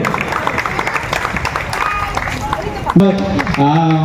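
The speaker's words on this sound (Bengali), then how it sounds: "করতালি দিয়ে অভিনন্দন সবাই মিলে" Audience applause at a Durga Puja committee award ceremony, a dense patter of many hands clapping under an announcer's amplified voice, followed by a louder burst of sound near the end.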